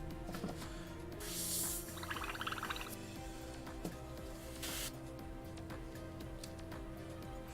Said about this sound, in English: Flushing out the little hopper there.